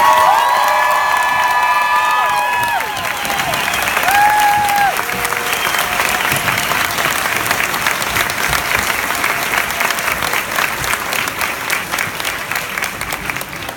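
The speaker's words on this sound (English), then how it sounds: "Can we get a round of applause for our family members?" A crowd at an army graduation ceremony gives a loud, sustained round of applause for family members, with cheering and whoops rising over the clapping before it slowly tapers.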